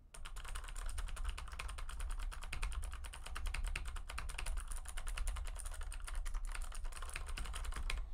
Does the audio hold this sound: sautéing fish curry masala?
no